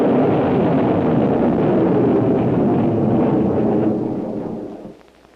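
An ASP rocket launching at Point Mugu naval missile facility, a loud, sustained rumbling roar that holds steady for several seconds before fading away.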